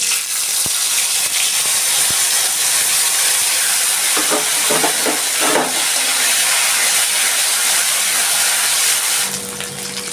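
Dried red chilli, white cumin seeds and cumin paste sizzle in hot oil for a Bengali prawn dish with arum stems, giving a loud, steady hiss that flares around midway and eases slightly near the end.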